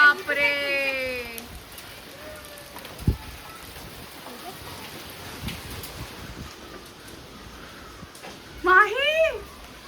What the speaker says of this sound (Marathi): परत गारा पडतायत